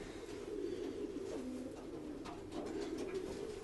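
Pigeons coo in a low, soft, rolling murmur that runs steadily without a break, up close but faint.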